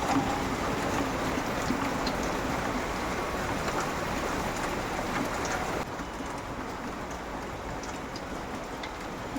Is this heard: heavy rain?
yes